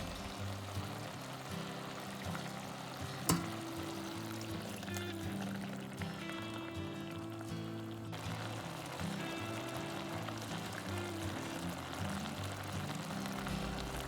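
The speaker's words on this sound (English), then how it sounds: "Pour 2 cups of water in twice and bring it to boil." Water pouring into a pot for Korean beef seaweed soup, a soft continuous stream over low kitchen hum with one sharp clink near the start, fairly quiet throughout.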